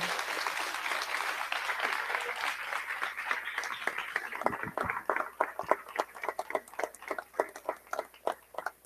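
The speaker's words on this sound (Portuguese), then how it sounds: "Dá um aplauso ao Senhor bem forte" A church congregation claps loudly, a dense wash at first that thins into distinct, separate handclaps toward the end.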